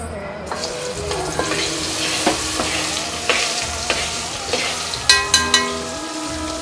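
Cumin seeds hit hot oil in a home Gujarati kitchen, giving a loud, steady sizzle and frying crackle, with a few sharp clinks of a spoon or pan near the end.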